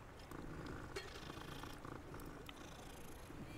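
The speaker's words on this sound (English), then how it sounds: "Like a serval cat, actually." A serval cat purring in the Hogwarts Legacy video game, a steady low rumbling purr running continuously and fairly faint, with brief brighter game sounds over it.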